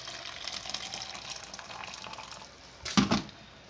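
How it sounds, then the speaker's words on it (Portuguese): Water is poured into a container to dissolve Dr. Oetker gelatin in a kitchen. A soft background hiss leads into a brief louder splashing pour near the end. "Vou juntar água."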